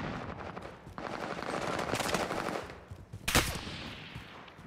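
Rapid automatic gunfire rattles in Call of Duty: Modern Warfare, bursts of fast shots swelling mid-clip with a sharp, louder crack near the end, moderately distant and without speech.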